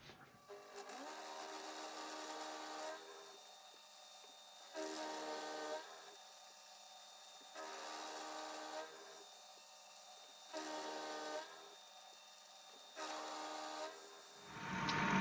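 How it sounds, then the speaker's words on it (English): A milling machine cuts a metal block down to size, working in repeated passes with a steady bright whine and rhythmic bursts that swell and fade about every two seconds, close and alone, rising at the end. "And now I'm going to mill it down to size."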